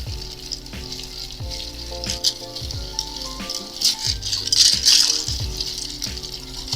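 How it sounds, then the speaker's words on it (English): Ice is stirred in a mixing glass for a mezcal and rye cocktail, giving a close, continuous rattle and clink with rhythmic swirling, and no voices. "We're gonna top this bad boy off with some ice and give it a nice long stir."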